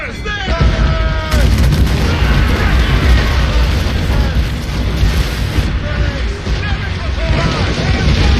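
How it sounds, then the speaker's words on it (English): Ship cannons and mortars firing in a naval battle in Assassin's Creed Rogue, a loud, sustained barrage of booming blasts and bursts rolling on for several seconds alongside shouted voices. "Cannon ready! Mortars there!"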